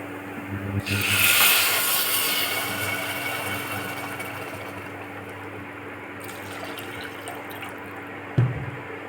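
Water streams into a cooking pot for sweet pongal with a steady splashing rush, loudest at the start, then settling into a softer continuous pour with a clunk near the end.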